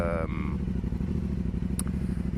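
Aprilia Dorsoduro 900 motorcycle out on a ride, its engine giving a steady, close, rumbling drone with a voice heard over it.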